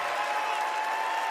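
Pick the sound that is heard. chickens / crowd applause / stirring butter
crowd applause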